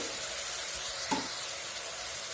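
Steady bright sizzle of cut brinjal pieces frying in hot oil, a continuous hiss with a brief louder crackle near the middle, close and alone without talking.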